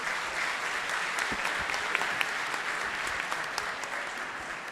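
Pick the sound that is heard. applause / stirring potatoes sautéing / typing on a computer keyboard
applause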